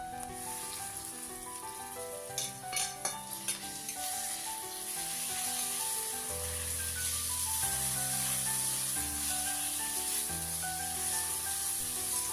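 Tomatoes tipped into a frying spice mix for chole sizzle steadily, with a few stirring clatters early on, then a constant close hiss that runs on alone.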